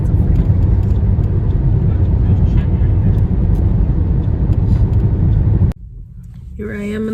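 Inside a parked car: a steady, loud low rumble fills the cabin for several seconds, then cuts out abruptly, leaving quiet with a brief voice-like sound near the end.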